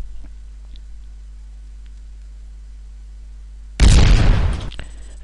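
A single loud gunshot effect bursts suddenly after near silence, a sharp blast that decays over about a second.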